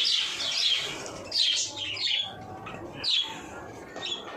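Pet budgie parakeets on a home terrace chirp in quick, bright bursts that come and go in a few clustered flurries, close by, with a soft background hum.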